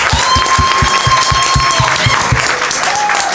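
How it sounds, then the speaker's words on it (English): A church congregation applauds steadily and fairly close, with dense clapping throughout and a few distinct, rhythmic heavier claps standing out in the foreground. "Round of applause."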